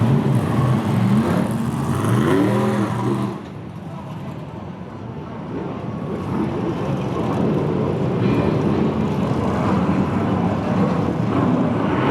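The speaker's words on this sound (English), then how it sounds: "We're away for the grand final once again for the BriSCA Formula One stock cars" BriSCA Formula One stock cars racing in a grand final, a loud sustained engine roar that dips briefly and then swells again, continuous and dense, with a commentator talking over it.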